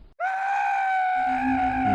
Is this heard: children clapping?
no